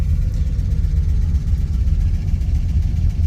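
A car with its original 340 engine and ST 300 transmission idles after a cold start, a steady low rumble that stays even and unbroken with no voices over it.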